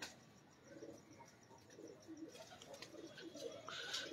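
Pigeons kept by a fancier coo softly and intermittently at a distance, with faint chirps and a little background noise, and no talking.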